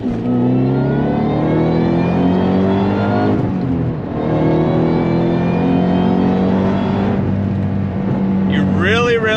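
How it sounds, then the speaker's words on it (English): A powerful Shelby GT500KR muscle car engine revs hard and accelerates through the gears, rising pitch climbing, dropping at shifts, then climbing again, loud and close. "Really get up to speed super quick in this Shelby"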